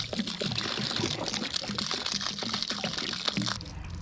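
Water is poured into a part of a rare Hesston 140 Front Runner garden tractor to flush it out, giving a steady, splashing trickle close by for several seconds.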